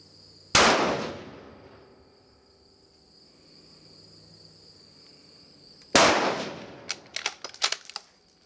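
Two sharp, loud rifle shots about five seconds apart, fired through an Area 419 Hellfire muzzle brake, each with a ringing decay, the second followed by a cluster of quick clinks and rattles.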